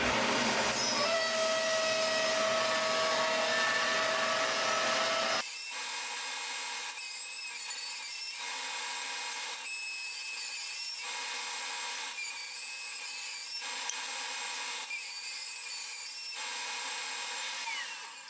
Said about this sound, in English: I'm going to run them through the planer so they are all exactly the same thickness.